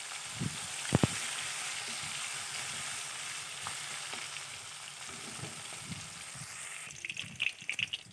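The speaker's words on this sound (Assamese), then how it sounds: "এতিয়া মই এইখিনি তেলতে পনীৰখিনি ভাজি ল'ম।" Paneer frying in hot mustard oil for a vegetarian jackfruit and potato curry, a steady broadband sizzle throughout with a few sharp pops and spatters, growing busier with crackles near the end.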